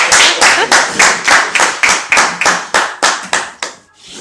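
A group of people claps loudly and rhythmically in a fast, steady beat of about a dozen strong claps at a lively camp gathering, with the clapping fading out at the end.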